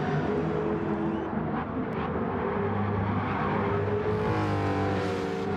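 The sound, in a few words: race cars at Laguna Seca corkscrew in racing video game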